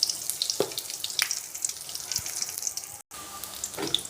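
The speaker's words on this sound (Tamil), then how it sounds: "கடுகு பொரியட்டும்" Mustard seeds splutter in hot oil as a tempering for okra sambar, giving scattered sharp crackles and pops over a soft frying hiss, with a brief dropout near the end.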